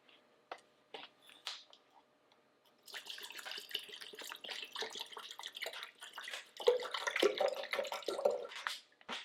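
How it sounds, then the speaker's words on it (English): Water from a 16-ounce bottle splashes and gurgles into a kettle, starting with a few drips and then a steady, slightly irregular pour close by. "I'll go ahead and pour that into this kettle."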